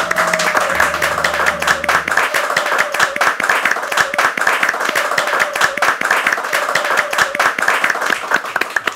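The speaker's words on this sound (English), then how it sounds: "Let's give Mr. Kim another big round of applause" Audience applause at a company event, a steady dense burst of many hands clapping, loud and continuous throughout, with a brief voice speaking over the start.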